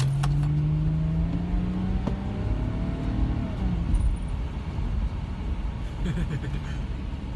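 The 3.2-litre engine of a 2006 Audi A4 Quattro revs with a rising then falling whine over a steady low rumble, heard close and sustained throughout.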